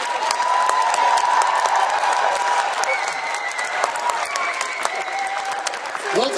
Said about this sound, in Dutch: Mag ik een applaus voor de lopers die vandaag vannacht uit Wageningen zijn begonnen.